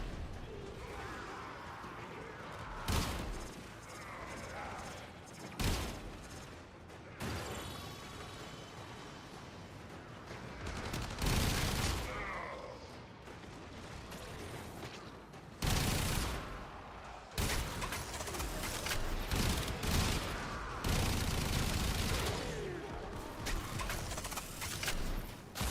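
Heavy bursts from a vehicle-mounted gun in Death Stranding 2 boom repeatedly across the stretch, loud and spaced at irregular intervals, with rumbling between shots and a person talking underneath.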